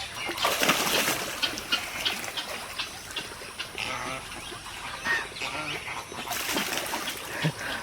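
Campbell ducks diving and splashing in fresh rainwater, repeated splashes and dribbling water at close to moderate range, louder bursts at the start and end, with faint bird calls in the background.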